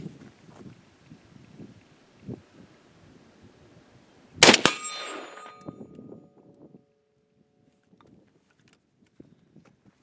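A single sharp report from a rifle fitted with an OSS suppressor cracks outdoors, followed by a brief ringing decay over faint background rustle.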